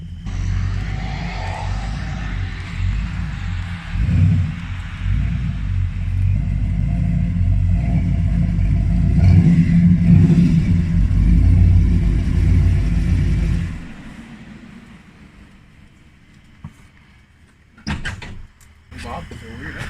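A supercharged LT1 engine in a Buick Roadmaster runs with a loud, heavy low rumble for about fourteen seconds, then drops off to a quieter idle with a few short bursts near the end.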